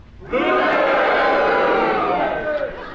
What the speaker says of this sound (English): If you agree with Derek Nimmo's challenge, will you cheer?